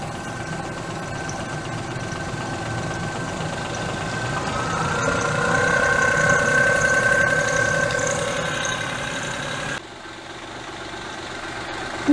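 A Daewoo Matiz engine idles too low, a steady rough mechanical rumble with slight knocking that swells in the middle and then drops back, heard close up with no talk.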